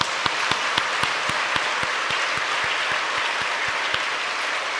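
A church congregation claps in sustained, dense applause, with a few sharp, distinct claps standing out in a steady rhythm above the wash of many hands.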